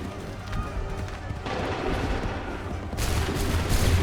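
Musket volley fired on command in Assassin's Creed III, a dense burst of massed gunfire swelling near the end over continuous battlefield din, with shouted voices mixed in.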